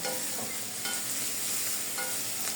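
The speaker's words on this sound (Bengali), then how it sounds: "আমি সবজিটা প্রায় 5-7 মিনিট এরকম নাড়ার মধ্যে রেখেছি।" Vegetables for noodles being stir-fried in a pan, a steady close sizzle broken by scraping stirs of a spatula through the full stretch, with no one talking.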